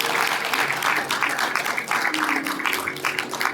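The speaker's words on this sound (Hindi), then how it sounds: "बीबी अरोड़ा जी के लिए जोरदार तालियां।" Audience applause for BB Arora at a devotional evening event honoring Prabhu Shree Ram, a steady wash of many hands clapping together for the whole stretch with no voices breaking through.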